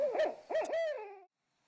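A barred owl hoots in a wooded spring setting, giving a short run of deep, wavering, close calls that ends in a drawn-out falling note, then silence.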